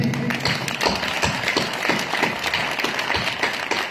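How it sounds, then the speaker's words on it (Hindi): Audience applause at a Hindi kavi sammelan poetry recital in Pilani, a dense steady clapping from a crowd, loud and sustained throughout without talk. "तालियां इस बात पर उठे"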